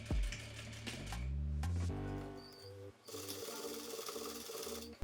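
A sewing machine runs in steady stitching bursts, sewing short horizontal reinforcement stitches across the corners of a 3D cargo pocket. The motor whirs close and continuous, then stops and starts again, with faint talk underneath.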